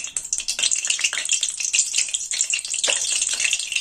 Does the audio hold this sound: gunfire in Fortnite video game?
no